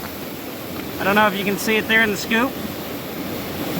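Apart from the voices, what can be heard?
loud river flowing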